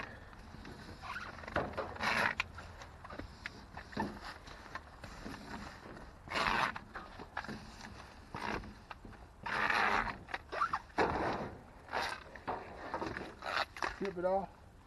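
Cable scrapes and rasps through a manual wire stripper in bursts while being pulled along on the ground, with someone talking over and between the rough stripping sounds.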